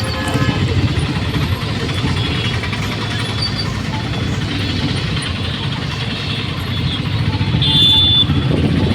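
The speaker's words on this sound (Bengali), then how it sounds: "আমরা এখন সবাই মিলে উঠে পড়েছি অটোতে" An auto rickshaw ride toward the sea, its small engine droning steadily and loudly throughout, with road rumble and faint voices underneath.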